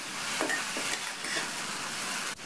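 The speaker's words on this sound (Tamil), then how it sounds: "இந்த கடலைப்பருப்போட முட்டைக்கோஸ் சேர்ந்து 1 நிமிஷம் போல் வதங்கிட்டு இருக்கட்டும்." Purple cabbage and chana dal sautéing in a pan, a steady close sizzle with scraping stirring strokes at intervals, ending with a sudden drop in sound.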